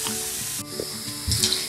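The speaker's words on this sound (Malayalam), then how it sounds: "അപ്പോൾ തേങ്ങയുടെ ഈർപ്പമൊന്ന് കുറച്ച് കുറയ്ക്കണം. അപ്പോൾ അതുകൊണ്ട് ഒന്ന് ഇതിനൊന്ന് വഴറ്റിയെടുക്കാം." Frozen grated coconut dry-roasting in a pan for rice balls gives a steady close sizzle with a few stirring scrapes and a louder burst near the end, with no talking.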